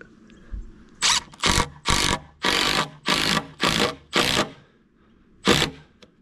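A power driver sinks large structural screws with a T30 bit, about eight loud whirring bursts in a steady rhythm, a pause, then one more burst close by and alone.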